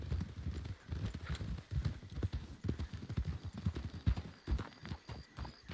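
Hooves clip-clop in a quick, uneven trotting rhythm, several horses close by in a Red Dead Redemption roleplay game, with a faint neigh and a brief tone near the end.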